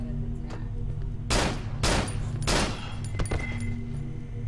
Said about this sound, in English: That headshot worked on her.